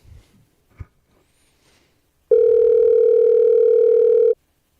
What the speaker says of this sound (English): Can you hear it ringing?